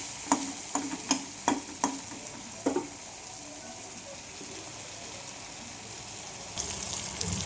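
Jackfruit curry with ginger, tomato and ground spices is stirred in a pan, giving a few sharp scraping clacks early on over a soft, steady sizzle, then a quieter stretch of low frying hiss.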